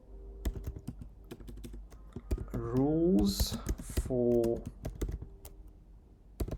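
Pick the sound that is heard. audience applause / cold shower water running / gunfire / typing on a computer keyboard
typing on a computer keyboard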